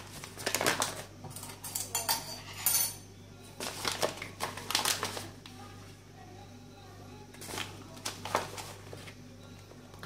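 A spoon scrapes and clinks against a bowl while scooping cornstarch, several short bursts of utensil-on-dish contact close by, with pauses between them and a faint low hum underneath.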